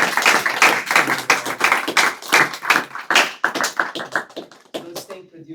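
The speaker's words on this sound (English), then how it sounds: "Let's thank Pradyumna with another big round of applause." An audience claps in quick, uneven bursts, close and lively, thinning out toward the end.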